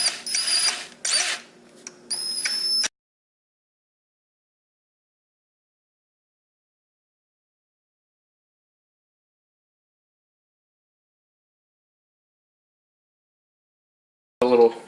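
A drill bit grinds as it is backed out of a Stihl 064 chainsaw crankcase, in loud close bursts over about three seconds, then silence until a brief sound at the very end.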